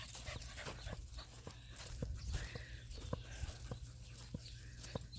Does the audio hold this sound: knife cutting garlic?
no